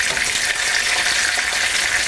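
Veal cutlets browning in hot oil give off a dense, even sizzle that holds steady and close for the whole short stretch, with no voices over it.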